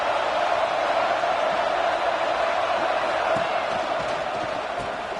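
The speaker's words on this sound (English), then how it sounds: "Guns up, and so is the noise. The crowd electric, trying to help Tech on this third down." Stadium crowd at a Texas Tech football game on third down, a steady loud roar of many voices cheering and yelling, continuous and distant-sounding with no break.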